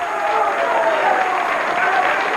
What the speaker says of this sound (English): Great round of applause.